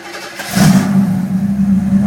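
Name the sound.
engine starting up after sitting a month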